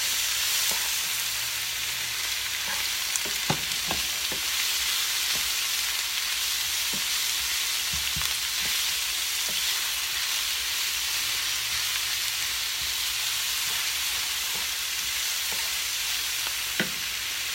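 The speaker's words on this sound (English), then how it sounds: "Just let this cook up. Stir it around a little bit." Vegetables stir-fry in a pan with a broad, constant hiss and sizzle, broken by scattered utensil clicks and scrapes, close and steady throughout.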